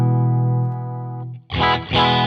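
An electric guitar runs through a free drive plugin with its tone control turned fully dark: a sustained distorted chord rings and fades, then two fresh loud strummed chords hit, thick and bass-heavy.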